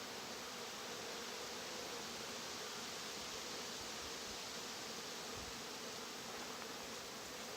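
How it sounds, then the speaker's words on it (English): Honeybees swarm over a hive frame during an inspection, a dense, continuous buzzing hum that stays close and steady from start to end, with no talking. "I'm blowing on the bees gently to get them to move so I can see inside the cells."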